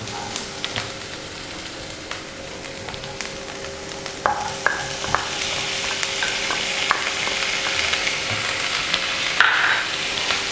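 Onions and tomatoes sauté in a pan for tomato rice, giving a steady close sizzle with scattered scraping and stirring taps throughout, no voices.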